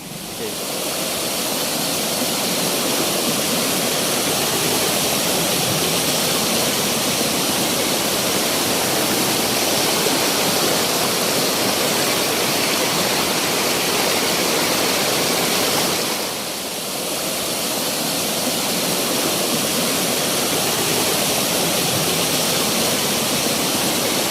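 Steady, loud roar of rushing water from the Gupteshwar Mahadev waterfall near Pavagadh, continuous broadband noise filling the whole stretch with a brief slight dip partway through.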